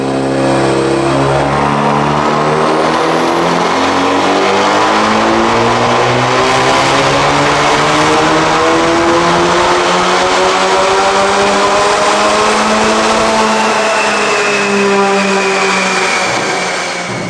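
Tuned 2018 Volkswagen Golf R turbocharged engine on a dyno pull, a loud, sustained rising roar climbing steadily through the revs with turbo whine on top, close and continuous, no voices.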